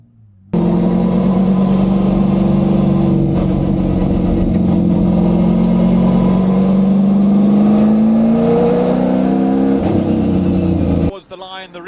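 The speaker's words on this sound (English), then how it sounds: "The revs will climb and the engines will roar as the lights go out" Ford Mustang race cars, including a 1968 Mustang, roar as their engines climb at a race start, a loud sustained rumble with rising pitch that holds for about ten seconds before cutting off.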